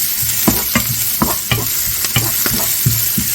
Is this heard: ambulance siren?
no